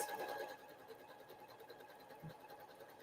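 A sewing machine stitches a very tight row on quilt pieces, its faint, steady whirring hum running close by without pause.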